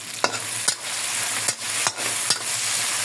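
Beef for mechado sautéed and stirred in a hot pan, a steady sizzle broken by four sharp scrapes and clacks of the spatula against the pan, close and loud with no talking.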